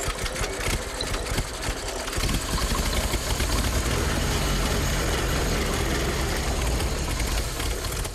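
A WWII fire engine's motor is started and runs outdoors, turning over and then settling into a loud, continuous running rumble that stays near and steady throughout.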